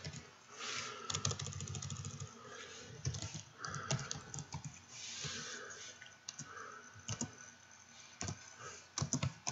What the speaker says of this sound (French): Et dans la zone de texte, je vais taper le nouveau nom de ma section.